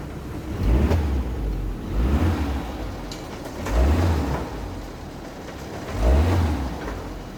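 A 1979 Toyota Corolla KE30 with a 1.2L engine runs after repairs to a bad engine noise, idling with a low hum that swells in three slow surges about every three seconds, close and fairly loud with no talk.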